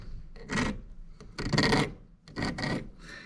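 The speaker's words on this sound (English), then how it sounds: "I'm going to pull this out like that, because here's my marking link. We'll just start filing." Hand file rasping across chainsaw chain cutting teeth in three short, close scraping bursts, each a quick run of strokes separated by brief pauses.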